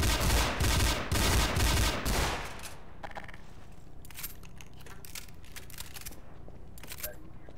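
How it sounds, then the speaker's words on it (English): Rapid gunfire in a video game, a loud burst of dense automatic shots for about two seconds, followed by quieter scattered single shots and clatter. "Shoot him for me."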